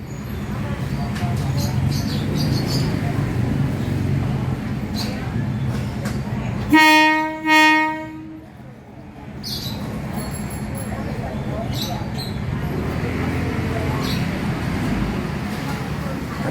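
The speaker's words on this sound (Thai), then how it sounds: "พอขอรอก็เปิดวีดแล้วนะครับ รถเคลื่อนตัวออกจากสถานีวงเวียนใหญ่" A train at Wongwian Yai station in Bangkok sounds a loud, sharp whistle blast in the middle, with steady engine and rolling rumble before and after as it pulls out, while someone talks throughout.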